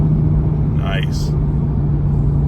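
A 2010 Hyundai Genesis Coupe R-Spec with a turbocharged 2.0T engine at full throttle on about 13 pounds of boost, heard from inside as a loud, steady low engine drone with a brief voice partway through.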